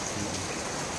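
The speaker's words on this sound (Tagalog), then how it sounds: "Ayan, tinan nyo at maulan, oh." Heavy rain pours in Barangay Gabon, Camarines Norte, Bicol, a dense, even hiss filling the whole moment with no speech over it.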